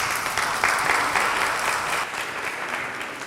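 A seated audience gives loud, sustained applause for the invited guest Monsieur Kaba at a talk on local potato production, an even wash of many hands clapping that fades slightly toward the end.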